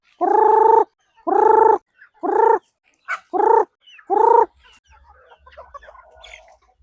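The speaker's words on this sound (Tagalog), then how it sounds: "Ito na yung mga native chickens natin" Native chickens cluck loudly in five drawn-out calls with short pauses, close by, followed by faint scattered clucking and rustling.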